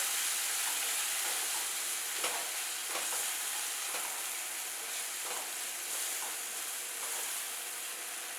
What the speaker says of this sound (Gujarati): તો આ બધા જ મસાલાને આપણે ડુંગળી અને ટામેટા સાથે સરસ સાતળી લઈશું.